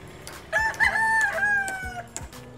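A fighting rooster kept for cockfighting crows nearby, one long harmonic call with a rising start and sustained tail lasting about a second and a half, then fading out over quiet farmyard background.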